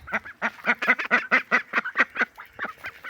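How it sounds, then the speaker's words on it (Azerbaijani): Ducks near the water quack loudly and close by in a rapid run of about a dozen evenly spaced calls, trailing off into a few fainter quacks at the end. "Baxın, ördəklərimiz də burada yatıblar."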